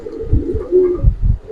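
Large, old-breed Giribaz pigeons coo in a loft, giving several deep, soft rounded coos in a steady rhythm, close and clear with no talk over them.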